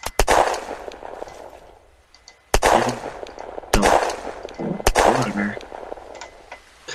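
Pistol gunshots in the survival video game Unturned: four sharp, loud single shots spaced a second or more apart, each with a short echoing tail fading into quiet between.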